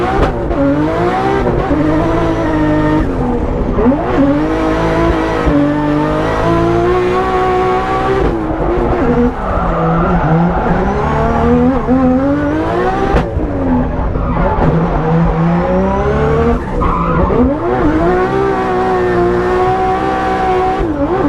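A drift car at a Klutch Kickers practice session is driven hard, its engine revving and bogging in loud, continuous waves, with a possible edge of tire squeal. No one speaks.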